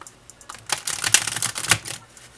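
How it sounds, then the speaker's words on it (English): A Santa Muerte tarot deck of thick cards is shuffled by hand, giving a close burst of rapid riffling clicks that builds for about a second and then fades. No one speaks over it. "let's see how this deck shuffles"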